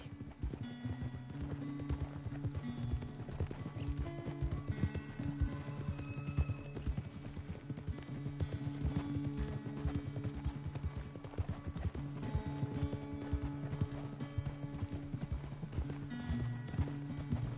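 Horse hooves in the video game Red Dead Redemption 2 clip-clop in a steady, rhythmic trot over a low background hum, continuing evenly for the whole stretch.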